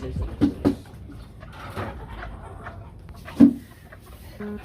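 Chickens clucking close by near a nest on a farm, short bursts of clucks and throaty calls with a brief louder squawk, over faint background noise.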